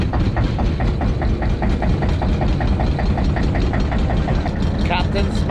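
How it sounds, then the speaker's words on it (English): Boat engine running at a steady idle after starting, a loud low rumble with a regular knocking pulse throughout, heard close on a calm sea before a fishing trip. "So we're gonna start the engine, get the rods ready"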